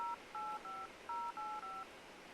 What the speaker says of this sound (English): Let's put a number in and see what it does.